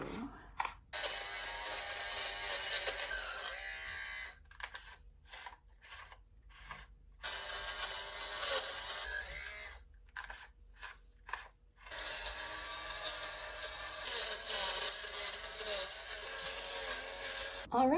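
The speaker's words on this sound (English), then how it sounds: "So it's like 3 little razor blades here that spin around." An electric fabric shaver with three small spinning razor blades de-pills fabric, giving a steady close buzzing rasp in long bursts that stop and start several times, with brief pauses in between.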